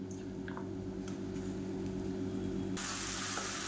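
Ground mint and coriander paste goes into hot oil in a pan, giving a soft wet squish and sizzle under a low hum; partway through, a broad hiss suddenly rises and holds.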